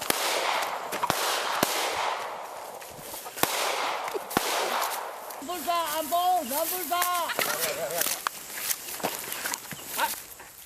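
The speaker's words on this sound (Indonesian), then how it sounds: "Tembakan peringatan dilepaskan polisi saat mengejar warga yang diduga ikut judi sabung ayam." Police fire warning gunshots while chasing people suspected of cockfight gambling; several sharp, loud cracks at irregular intervals, with a shouting voice and scuffling commotion in the middle.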